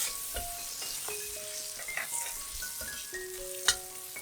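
Vegetarian braised pork rice ingredients stir-frying in a pan with salt and pepper, a quiet steady sizzle broken by scattered scrapes and clinks of the spatula against the pan.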